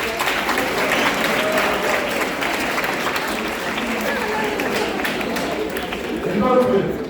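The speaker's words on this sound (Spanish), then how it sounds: "Un aplauso para Tiago" Audience applause at a workshop for families, a crowd clapping steadily that swells slightly near the end, mixed with voices talking at the same time.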